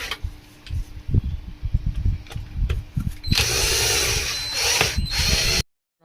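A power drill tightens screws on a Butterfly Pebble Plus mixer grinder after its armature coil has been replaced. Scattered taps and knocks come first, then a loud, close, steady drill whir runs for about two seconds and stops abruptly.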